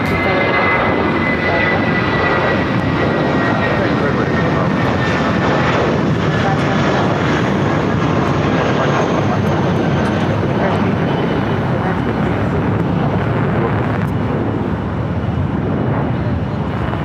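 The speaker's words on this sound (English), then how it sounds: "Should be seeing the Korean Air Flight 11 A3D Super. Downwind leg." A Korean Air Airbus A380 flying the downwind leg on approach to LAX produces a loud, steady engine roar that fills the whole stretch, with air traffic radio chatter heard over it.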